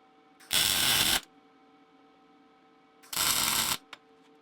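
A welder lays a corner weld on a beginner practice block in two short bursts of harsh crackling buzz, each under a second, separated by a quiet humming pause and a faint click.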